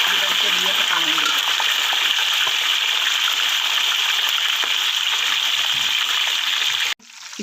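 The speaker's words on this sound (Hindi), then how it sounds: "हम इसको फ्राई करेंगे और ये हमारा ऑयल गर्म हो गया" Marinated chicken for Lahori chargha frying in hot oil, a loud, dense, continuous sizzle close up that cuts off abruptly near the end, leaving a faint quiet tail.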